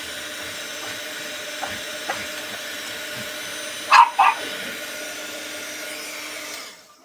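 A heat tool blows a steady, even hum across a card while embossing powder melts. The hum runs almost the whole time before cutting off near the end, with two brief, sharper bursts just past the midpoint.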